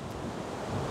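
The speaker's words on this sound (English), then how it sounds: "the clouds are moving quite fast, to be fair, I think because it's so windy" Wind blowing through a silver birch woodland in the Peak District on a gusty day, heard as a steady broadband rush with microphone buffeting and no voices.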